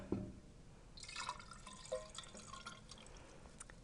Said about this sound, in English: we can pour the mixture into the sedimentation cylinder